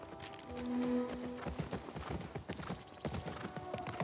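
Horse hooves clip-clop in The Last of Us Part II, a quiet, steady series of hoof strikes with a brief low horse sound near the start.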